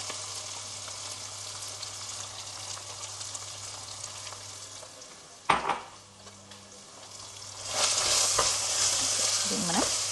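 Two large onions, sliced, sizzling in oil for a fenugreek goat curry, a steady hiss broken by a sharp knock of a utensil midway, then louder spattering as they are stirred over a low hum.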